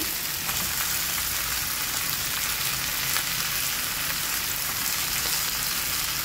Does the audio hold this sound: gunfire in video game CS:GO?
no